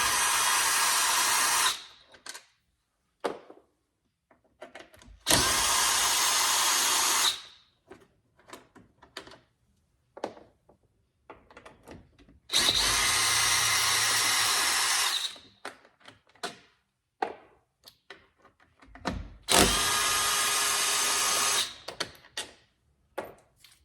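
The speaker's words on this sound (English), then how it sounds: "It's just a handheld drill and a T30 bit. And we're just going to pop these screws out." A handheld drill fitted with a T30 bit backs screws out of a Ford Bronco panel in four loud, separate whirring bursts of about two seconds each, with clicks and handling noises between them.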